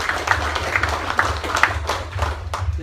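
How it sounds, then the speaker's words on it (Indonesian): Scattered hand claps from a small gathering honouring the Ansor chairman, uneven and moderately close, with a low background hum. "Tepuk tangan dulu untuk Ketua Ansor"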